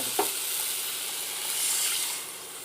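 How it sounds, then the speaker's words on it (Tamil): Turmeric and masala sautéing in a pan for tomato chutney, a steady close sizzle and hiss with a brief stir at the start, no voices. "இதில் 1/4 டீஸ்பூன் மஞ்சள் தூள் ஆட் பண்ணி இதை வதக்கலாம்."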